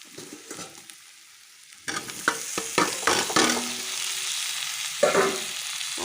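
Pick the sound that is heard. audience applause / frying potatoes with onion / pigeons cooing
frying potatoes with onion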